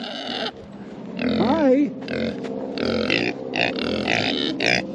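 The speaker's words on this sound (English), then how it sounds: "They're very noisy pigs when they're hungry." Hungry Idaho pasture feeder pigs grunt and squeal up close in a series of loud, rough, uneven calls, with a person briefly speaking a greeting among them.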